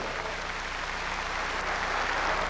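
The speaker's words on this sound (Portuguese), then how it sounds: "queremos saudá-los com esta calorosa salva de palmas" Warm applause from a congregation greets two newly ordained bishops at an episcopal ordination Mass, a steady, dense wash of clapping that holds evenly and swells slightly toward the end, with no voices over it.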